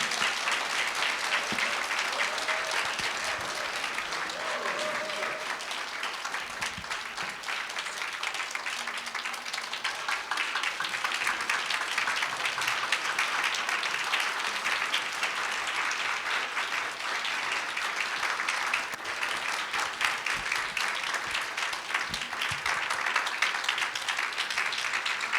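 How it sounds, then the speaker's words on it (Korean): Warm applause from a church congregation welcoming a senior pastor to the pulpit, steady dense clapping that fills the room and continues without a break for the whole stretch. "우리 목사님 나오실 때 여러분 뜨거운 박수로"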